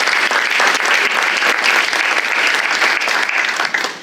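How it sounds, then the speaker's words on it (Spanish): Loud, dense applause from an audience at a community development event, a steady wash of clapping that continues without a break and dips slightly at the end. "yo les pido un aplauso para nuestro"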